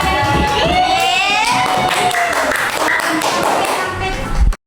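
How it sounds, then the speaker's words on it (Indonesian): A class of schoolchildren claps and cheers for a student group after its presentation, a dense burst of close tapping and shouting voices that fades slightly before stopping abruptly. "Kasih tepuk tangan untuk kelompok 3"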